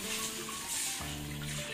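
Three cups of water pour steadily into a pan for dum ki semiya, a close, continuous splashing stream with no talk over it.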